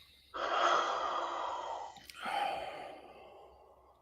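A slow deep breath drawn into the belly and chest during a relaxation exercise, then a brief catch, then a second long exhale, close and breathy with no talking.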